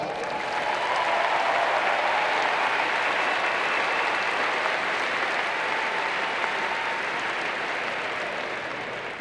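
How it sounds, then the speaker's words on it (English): University commencement audience applauding the ceremony organizers, a loud sustained wash of many hands clapping in a large hall, steady throughout and tapering slightly at the end. "Let's give them a round of applause."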